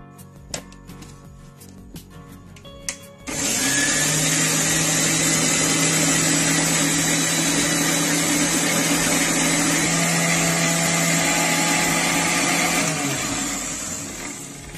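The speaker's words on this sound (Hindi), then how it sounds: "तो चलिए इसे जो है मिक्सर ग्राइंडर में पीस लेते हैं।" A kitchen mixer grinder starts abruptly after a few light clicks and taps, then whirs loudly and steadily as it grinds ingredients into juice, with the motor winding down near the end.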